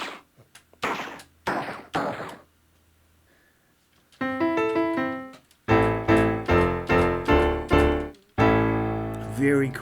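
Gunshot sound-effect samples from a BlackStar Carry-On 88-key folding digital piano: a few sharp isolated shots first, then a run of loud pitched blasts in quick succession, ending in a longer ringing burst.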